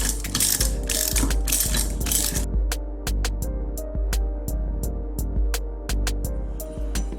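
Ratchet with a socket tightening a part on a Harley-Davidson primary case, loud and close: a dense burst of rapid clicking, then steady evenly spaced pawl clicks over a low background hum.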